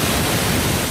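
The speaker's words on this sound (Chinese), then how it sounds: "玉里南安瀑布平常只有涓涓细流，现在也因为雨量急剧暴增，变成惊人的大瀑布。" Nan'an waterfall in Yuli, Hualien, swollen by typhoon rainfall into a torrent, roars as a dense, continuous broadband rush that fills the moment without pause, loud and close.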